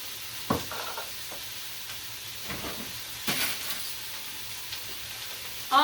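Zucchini ribbons tossed in a hot pan give a steady, soft sizzle, broken by occasional stirring scrapes and clatter, with no talk.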